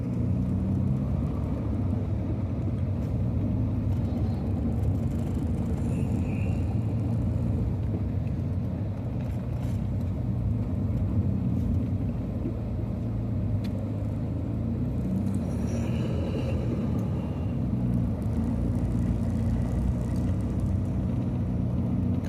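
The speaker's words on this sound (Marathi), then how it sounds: "सेकंड फर्स्ट गिअर वरती गाडी आहे कंटिन्यू" A car grinds up the steep Ajanta ghat road in second and first gear through morning traffic, its engine a steady, close, low rumble that holds even throughout with no talk.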